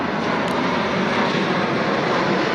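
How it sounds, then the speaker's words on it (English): Loud, continuous engine roar of a fixed-wing airplane flying low overhead under the LAX approach path near the Intuit Dome in Los Angeles, with no talking and no break in the sound. "Another airplane going over."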